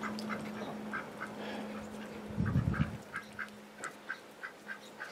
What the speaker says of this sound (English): Somebody gave us that white duck.